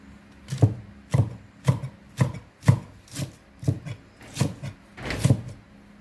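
Knife chopping banana blossom finely on a cutting board, nine sharp, evenly spaced thuds about half a second apart, close and clear with no talking.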